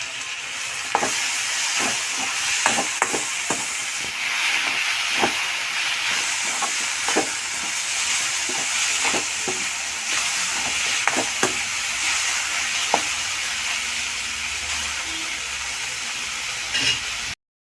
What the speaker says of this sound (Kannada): ಅವಾಗೆ ಚಾಪ್ ಮಾಡ್ಕೊಂಡಿದ್ದ ಟೊಮೆಟೊನ ಹಾಕಿ